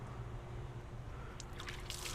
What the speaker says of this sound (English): We need to drain the water out of the strainer as well by removing the plug at the bottom of the strainer.